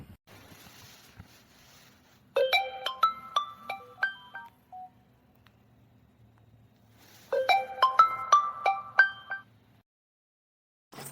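Melodic electronic phone ringtone plays two short phrases of rising and falling tones, separated by a few seconds of near silence, clear and close in a quiet room.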